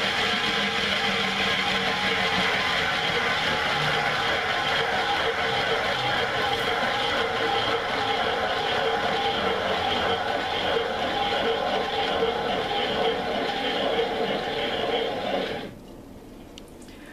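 A cake decorating wheel spins an acrylic-poured vinyl record at speed, giving a steady whirring, rattling hum that runs for about fifteen seconds and then stops abruptly, leaving a quiet room.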